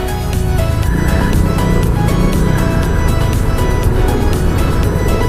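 Dense road traffic on a Makati afternoon, heard from inside a moving vehicle: a steady, loud engine and road rumble holds throughout, with broadband noise and no clear gaps or voices.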